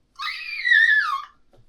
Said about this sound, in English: that was my primal scream